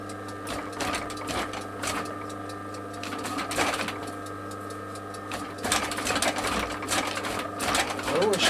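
A sewing machine stitches a leather knife sheath at a slow, steady pace, its needle chattering continuously up close while someone talks over it.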